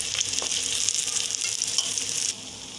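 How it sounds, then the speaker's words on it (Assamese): Close, busy sizzling and crackling of fish frying in oil in a wok for sesame seed fish curry, a bright hiss that drops suddenly toward the end. "এয়া মোৰ মাছখিনি অলৰেডি ভজা হৈ গৈছে।"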